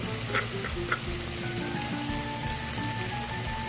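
Green chillies sautéing in oil for chicken curry, a dense continuous close sizzle with a faint steady hum beneath and a few small pops.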